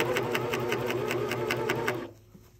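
A cover stitch sewing machine runs steadily while stitching a knit neckband, a fast even mechanical chatter close up that stops abruptly near the end.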